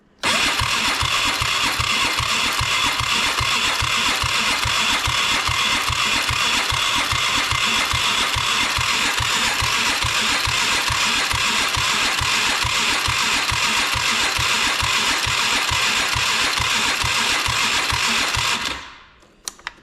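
A Polaris Sportsman 500 ATV engine cranks over in a steady, rapid starter rhythm for about eighteen seconds as throttle is given, loud and close, before cutting off abruptly without catching.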